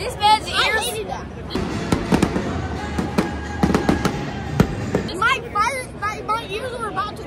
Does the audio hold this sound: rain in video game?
no